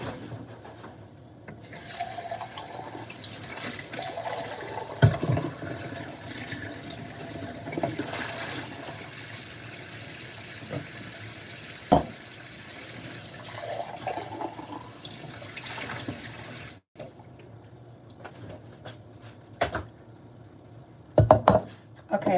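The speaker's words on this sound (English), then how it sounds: "Let me rinse this out." Tap water runs steadily as a juicer cup is rinsed under it, close and fairly loud, with knocks and clatters of the plastic part, and a brief pause before a few more bumps near the end.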